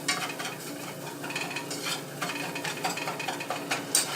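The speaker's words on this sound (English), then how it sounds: "and then you stir it." Flour browns in bubbling oil for a vegan gravy while it is stirred, a steady close sizzle with continuous scraping and rustling strokes and no speech.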